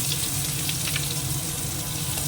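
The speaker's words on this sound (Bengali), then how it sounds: "তেলটা ঢেলে কমিয়ে নিয়েছি আর যেটুকু তেল লাগবে সেটা দিয়েছি এই যে পেঁয়াজ কুচনো আগে দিয়ে দেবো" Chopped onions sizzling in hot oil in a pan, a steady close frying hiss running continuously with faint watery crackle and no talk.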